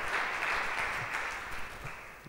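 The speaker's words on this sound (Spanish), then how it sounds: "Denle un fuerte aplauso al Señor Jesucristo" A church congregation gives sustained applause during a worship service, many hands clapping in a dense, even roar that fades slightly toward the end.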